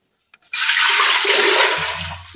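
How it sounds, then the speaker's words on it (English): Water poured into a clean cooking pot while making base cream, a sudden loud rushing splash that runs steadily for about two seconds, then deepens into a lower gurgling fill. "we are going to pour our water into a clean pot"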